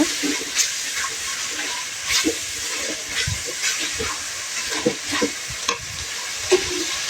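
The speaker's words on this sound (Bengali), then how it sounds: "এরপর ভালো করে কষিয়ে নেব।" Chicken korma masala is stir-fried in a pan, a steady sizzle broken by repeated scraping stirs at a loose rhythm, close and fairly loud.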